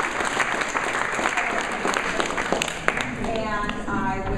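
Audience at an FIU BFA gallery opening at the Frost Museum applauding, a dense steady burst of many hands clapping that continues throughout with some voices mixed in.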